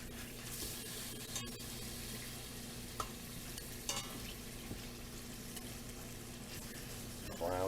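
Thin pieces of food frying in a pan as they are turned, a soft continuous sizzle with a few clinks and scrapes, faint and close, with running water toward the end.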